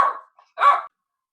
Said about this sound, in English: If you hear Sawyer, you might hear a little barking.